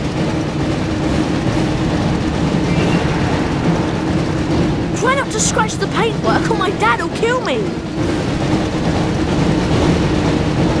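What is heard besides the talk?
train running in Harry Potter Chamber of Secrets PS1 video game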